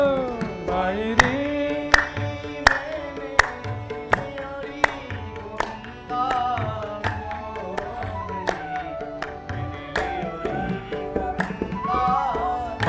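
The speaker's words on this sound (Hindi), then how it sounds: "महाराज ताली में ऐसी कंजूसी मत करो" An audience claps in a steady rhythm to devotional bhajan singing at a Bhagwat Katha, sharp regular hand claps punctuating the sung melody throughout.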